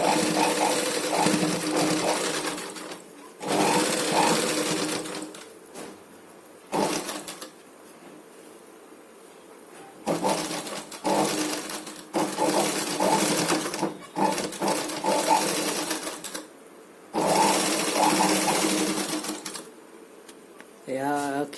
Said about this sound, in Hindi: ये तो सिलाई कर रहे हैं